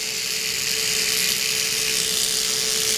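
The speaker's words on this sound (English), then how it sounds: "this is going to help them get used to you guys using a, a Dremel if you file their nails down with that" A Dremel rotary tool runs near Great Pyrenees puppies, giving a steady, close, high-pitched whirring drone that holds without pause.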